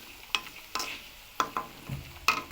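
Oil simmers gently in a pan over a low flame, making a quiet low bubbling crackle broken by a few sharp ticks and taps spaced through the moment.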